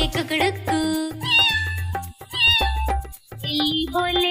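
A voice imitates a cat's meow, sung in a lively Hindi children's rhyme over bright musical backing, with several repeated meows in quick succession.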